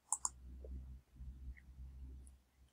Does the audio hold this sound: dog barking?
no